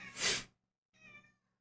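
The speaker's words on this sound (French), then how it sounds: "c'est le chat qui me gueule dessus parce qu'il veut les dehors" A house cat meowing to be let outside: a loud, breathy yowl followed after a short pause by a softer, tonal meow, close and alone with no talking.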